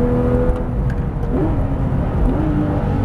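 The 4.0-litre engine of a Porsche 911 GT3 RS rumbles loudly and steadily from close by. The revs rise and fall with each blip of the throttle.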